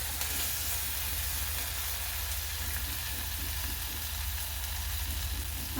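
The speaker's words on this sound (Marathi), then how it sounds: "वाटून घेतलेली हिरवी मिरची आणि कोथिंबीरची पेस्ट केलेली टाकून घ्यायचं आणि ह्याला 1 मिनिटभर परतून घ्यायचं" Green chilli and coriander paste sautéing in hot oil for dal methi, giving a loud, dense, continuous sizzle with a steady low hum beneath, close up and without speech.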